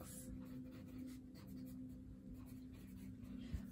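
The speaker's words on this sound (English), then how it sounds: "I'm going to write that down." Pen scratching across paper by hand during a tarot reading, a soft continuous scribble at close range under a steady low hum, with no talking.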